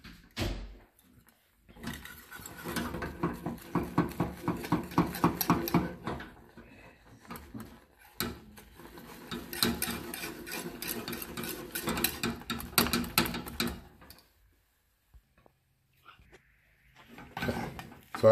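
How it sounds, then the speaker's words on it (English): Choux pastry dough being whisked in a pot on a lowered stove, giving repeated scraping and stirring strokes against the metal in two long bursts with short pauses, close and moderately loud, with no talking. "we're just going to whisk it."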